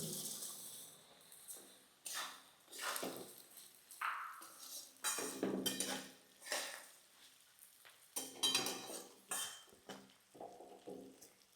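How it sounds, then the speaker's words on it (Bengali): Flattened rice (chira) frying in hot oil in a pan, with repeated scraping and stirring clatter of a utensil over a soft sizzle, close and moderately loud, no talk. "এবার তেলের মধ্যে আমি চিড়েগুলোকে দিয়ে দেবো।"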